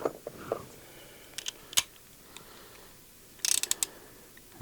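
A 17mm wrench loosening the oil drain plug on a Yamaha Tenere 700 gives quiet, short bursts of ratcheting clicks close by, with a faint metallic rattle between them and no talking.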